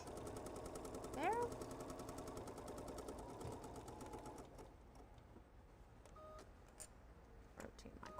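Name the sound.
sewing machine back stitching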